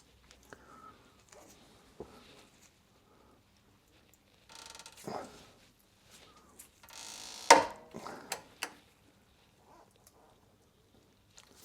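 A 17 mm six-sided deep socket wrench turns a drop link bolt on a Jaguar XK8 V8 GT, making sparse, quiet metallic clicks and ratcheting bursts with a couple of louder clanks, close up.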